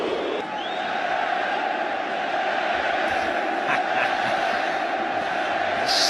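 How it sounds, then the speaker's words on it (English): Barcelona fans in a football stadium send up a continuous roar of crowd noise and cheering, loud and sustained throughout, with a few faint whistles on top. "to the cheers of the Barcelona fans in the stadium."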